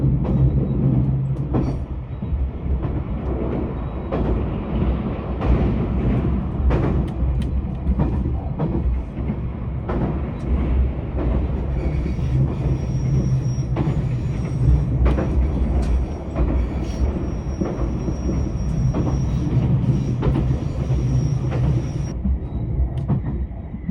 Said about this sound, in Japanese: 列車は中国山地を越えて岡山県側へと進んでいます。